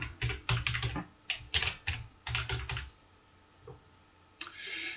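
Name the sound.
typing a password on a computer keyboard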